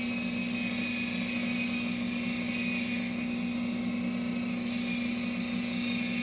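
A buffer-type machine with a 120 grit abrasive runs steadily while refurbishing a knife, giving a constant loud whirring drone with a strong steady hum and no pauses.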